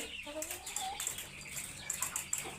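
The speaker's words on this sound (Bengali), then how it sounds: "আপনারা সবাই দেখেন আমার এখানে অষ্টলাভ মুরগিগুলো পানি খাচ্ছে" On a farm, chickens cluck softly and make scattered calls while drinking water, with faint high chirps and rustling throughout. The sounds are moderately close and there is no talk.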